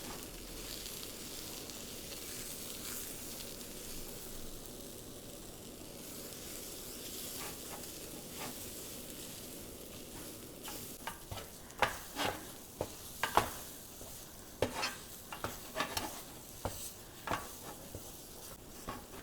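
Sweet chana dal filling with cardamom being stirred and heated in a pan: a quiet sizzle at first, then a burst of sharp scraping and tapping strokes toward the end, close by with no voices.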